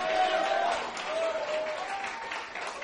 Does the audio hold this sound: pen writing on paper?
no